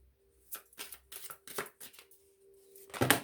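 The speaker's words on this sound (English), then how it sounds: "Give it another bit of a shuffle. These are big cards." A large deck of oversized cards is shuffled in several quick riffling bursts with short pauses between, close and fairly loud, ending in a firmer tap or squaring of the deck, with no talking.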